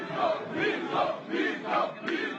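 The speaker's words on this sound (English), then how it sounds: "He points to this, the rapturous applause he's receiving as he travels the country building support for his campaign." A large crowd roars and cheers in rising and falling waves for a campaigning presidential candidate touring the country, loud and continuous with no clear speech.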